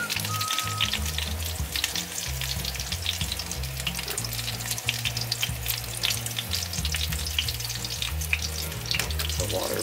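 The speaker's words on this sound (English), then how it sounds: "cook out the meatless meatballs with some canola oil" Meatless meatballs sizzle and crackle steadily in hot canola oil, with occasional stirring noises beneath the continuous frying hiss.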